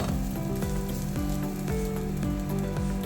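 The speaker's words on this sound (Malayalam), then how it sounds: "അതിനുവേണ്ടി ഞാൻ തേങ്ങ ഇട്ട് ഒന്ന് ചൂടാക്കി എടുക്കണം" Grated coconut roasting in a hot pan for a vegetable theeyal gives off a steady, close, continuous sizzle with faint crackles and no voices over it.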